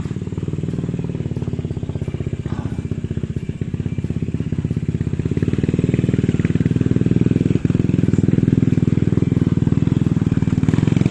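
Motorcycle engine running close by, a steady loud buzzing drone that rises slightly in intensity over the clip.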